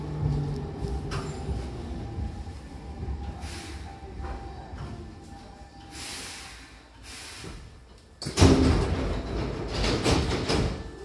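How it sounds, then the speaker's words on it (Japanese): Hankyu Kyoto Line train at Kamishinjo Station, a quiet platform hum with short hisses from the doors, then a louder rush of train noise near the end. "扉が閉まります。ご注意ください。"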